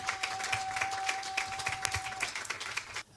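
A church congregation claps in a fast, steady rhythm with cheering voices, a lively, continuous round of applause that fades out at the end.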